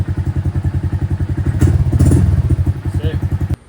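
A Honda Grom motorcycle idles with a fast, even thumping pulse, close and loud, swelling briefly as the throttle is blipped before settling back and cutting off; a faint voice is heard in the background.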